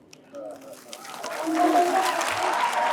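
Applause rising from a crowd at a public land-reform welfare dialogue event with a deputy chief minister, swelling steadily and continuing, with some voices mixed in.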